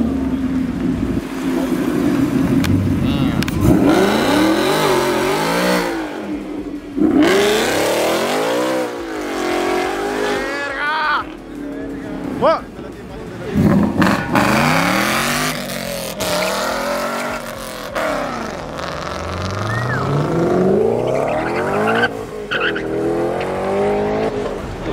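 A tuned car with a supercharged V6 at a car meet revs hard again and again, with rising and falling engine sweeps, acceleration bursts and some tire noise. People talk and shout around it.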